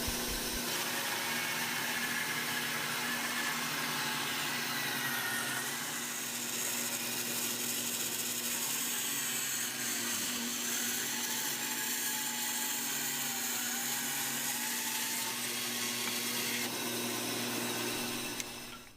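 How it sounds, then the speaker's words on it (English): Bandsaw resawing a rough-sawn rosewood bridge blank for a tenor guitar, a steady loud machine hum with continuous blade cutting noise throughout, no voices. "took it to the bandsaw to resaw it close to the final thickness"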